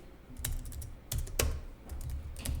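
Computer keyboard keys pressed for a Ctrl+F1 shortcut in accounting software, a few sharp clicks spaced irregularly with one brief cluster, close and fairly quiet over faint room noise.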